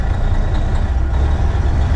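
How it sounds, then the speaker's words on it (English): A truck engine idles roughly with a failing injector, a loud, low, uneven rumble close by with a slightly irregular pulse and no talk. "It kind of sounds like I'm losing a injector here on my truck."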